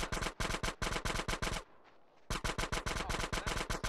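Rapid automatic gunfire in GTA San Andreas, loud repeated bursts of shots, a brief pause in the middle, then another sustained volley.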